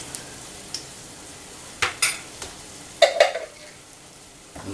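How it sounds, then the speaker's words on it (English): Minced garlic stirred into a frying pan with a utensil, giving a few light scrapes and clinks over a soft steady sizzle, close and alone. "And we'll just stir that in."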